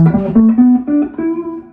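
Single guitar notes climb step by step through a pentatonic scale shape, about six plucked tones ringing close and clear, ending back on E.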